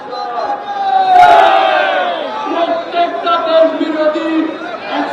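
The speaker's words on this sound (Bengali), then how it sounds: "এই মিছিলের একটা অংশ ইতিমধ্যে ধর্মতলায় এসে পৌঁছেছে এবং সেখানে তারা স্লোগান তুলছেন" A BJP Tiranga Yatra rally crowd at Dharmatala chants slogans in a loud, sustained roar, with many voices shouting together and swelling early before continuing as dense massed chanting.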